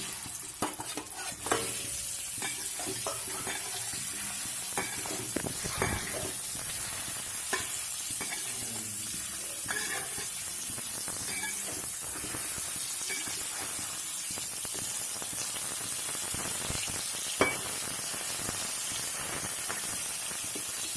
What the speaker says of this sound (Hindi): अब हम इसमें आलू फ्राई करेंगे।